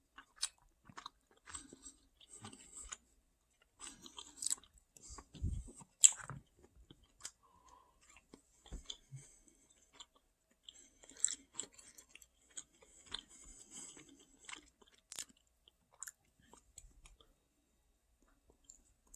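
Close, quiet chewing of a Korean barbecue bowl topped with a fried egg, soft irregular bites and crunches spread across the stretch with small clicks and no speech.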